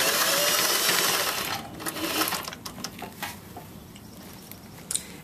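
A sewing machine stitches a shirt collar to its collar band at a 5/8 inch seam allowance, a loud continuous whir for under two seconds, then stopping into faint clicks and fabric handling.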